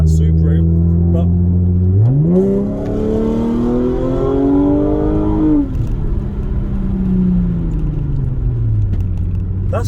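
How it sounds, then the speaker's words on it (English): Supercharged Audi S4 engine revving up hard during a road test, the rising whine and rumble climbing steadily in pitch for several seconds before easing off, loud and close inside the car, with people talking over it. "That's quicker than I was expecting."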